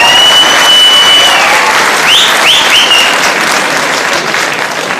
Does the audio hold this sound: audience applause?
yes